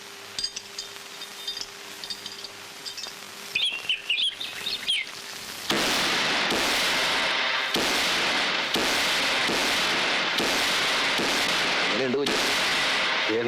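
Firecrackers bursting at a temple festival, with scattered faint pops and chirping at first, then a loud close run of rapid, repeated bangs that keeps going.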